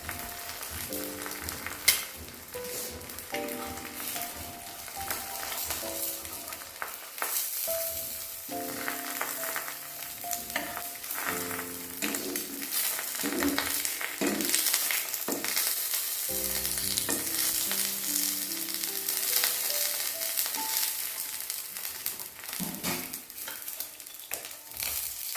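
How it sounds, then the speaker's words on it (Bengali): An egg with a little salt frying in a pan, a continuous bright sizzle running throughout, close and alone while flat musical tones play underneath. "অল্প একটুখানি লবণ দিয়ে এপাশ ওপাশ করে ভেজে নিয়ে অবন্তিকাকে খেতে দেবো"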